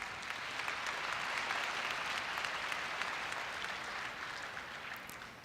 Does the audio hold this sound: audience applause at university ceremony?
yes